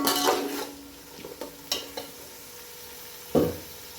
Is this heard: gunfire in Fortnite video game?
no